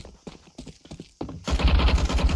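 A few MP9 submachine gun shots in Counter-Strike 2 fire in a short burst near the end, loud and close, following quieter clicks and footstep-like taps.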